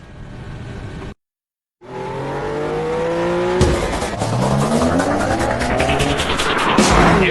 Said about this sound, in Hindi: ये मॉन्स्टर रेस कार्स धीरे धीरे अपनी फुल पावर दिखाना शुरू करेंगी